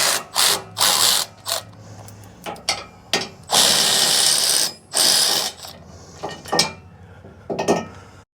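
Ratcheting wrench bursts and metallic clanks ring out close by as tow hooks held by 21 mm bolts come off a Jeep Gladiator, several short, uneven bursts separated by brief pauses.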